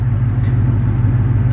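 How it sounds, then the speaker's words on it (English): A Ford Shelby GT500 fitted with longtube headers idles steadily nearby, its deep, even engine rumble continuing throughout without talk. "we're gonna hear the car"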